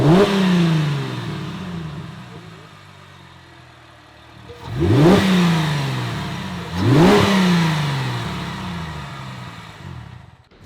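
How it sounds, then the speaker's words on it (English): Chevrolet Camaro engine with its stock air intake, idling loudly nearby, then revved up sharply twice with a rising roar each time before settling back down, no talking. "we're gonna get audio from the stock intake, and then we're gonna get audio from the aftermarket intake"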